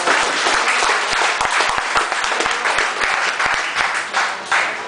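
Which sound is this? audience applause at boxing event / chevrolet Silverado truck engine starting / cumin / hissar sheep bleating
audience applause at boxing event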